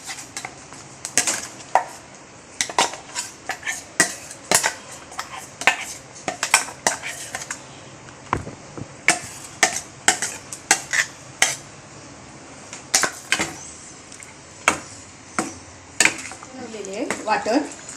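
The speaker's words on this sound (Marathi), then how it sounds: "आता ही ग्रेव्ही बनवली आहे मी, आणि आता ह्या चिकनमध्ये घालायची।" Ground green gravy for Hyderabadi haryali chicken is added to the pot and stirred in, with repeated sharp clinks and scrapes of a spoon against the metal vessel, some quiet talk under the clatter.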